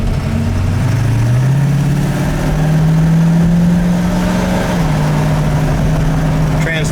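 Red 1967 Mustang with a 4-barrel V8, its exhaust rumbling loudly and close, rising in pitch as it revs, then settling back to a steady idle.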